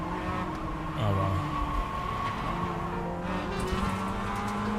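Mazda MX-5 race car in the iRacing sim racing game, engine droning steadily with shifting pitch as it accelerates and brakes, other cars audible around it, continuous and moderately loud.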